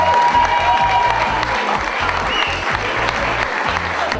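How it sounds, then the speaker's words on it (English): Sustained crowd applause for a women's hockey team at a 2009 Takapuna event, a dense, steady clapping that fills the whole stretch with a few cheers mixed in. "A big round of applause for Hockey Women."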